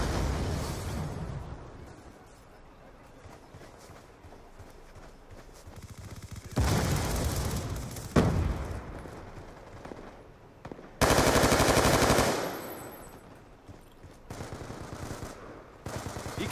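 Video game gunfire comes in bursts of rapid automatic shots with loud sustained stretches and quieter gaps in between, dense and mechanical-sounding, with no voices heard.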